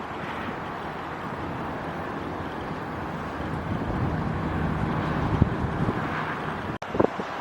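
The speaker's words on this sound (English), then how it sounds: "It's been very windy right now." Strong wind roars steadily across the microphone for several seconds at a theme park construction site, a dense, rushing noise with a brief buffeting thump near the end.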